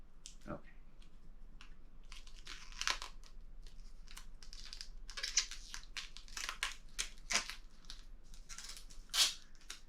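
Plastic protective film is peeled off graphics card packaging in short bursts of crinkling and tearing, close and fairly quiet, with faint background talk.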